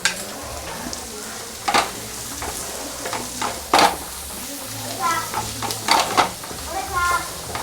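Spice powders (chilli, garam masala, Kashmiri red chilli, sambar powder) stirred into a frying onion base for egg curry, with a low sizzle and scraping spoon strokes against the pan at irregular intervals, close by.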